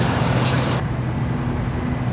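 A steady, loud hiss of cleaner sprayed onto a mass air flow sensor from a Chevy Express 3500 7.4 Class C RV, close up, a continuous spray that cuts off abruptly partway through and leaves a lower background rumble.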